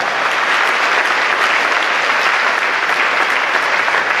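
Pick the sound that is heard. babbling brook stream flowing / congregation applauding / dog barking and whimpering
congregation applauding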